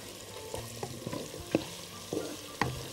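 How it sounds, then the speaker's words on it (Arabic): Onions fry gently in a pot while a spoon stirs them a couple of times, a soft steady sizzle broken by sharp scraping knocks against the pot, close and fairly quiet, with no talk. "بس كده تقليبتين للبصل بس يبتدي يتحمر"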